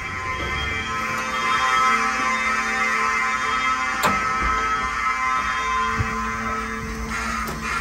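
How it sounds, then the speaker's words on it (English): A fire alarm blares continuously and steadily for several seconds inside a building with hydraulic elevators, loud and close, with a few faint clicks and knocks underneath. "Fire alarm."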